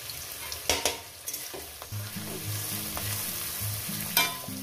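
Chopped onion sizzling and frying in a pan, with stirring scrapes and a few louder clatters over a steady frying hiss, heard alone without talk.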